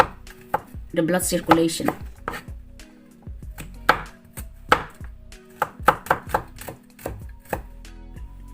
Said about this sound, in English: then the garlic, small pieces